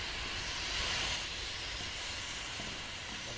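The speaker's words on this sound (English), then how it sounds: "Steam there." In the Resident Evil 2 game, steam hisses in a steady, close, broad rush that holds at an even level throughout, with a slight swell early on.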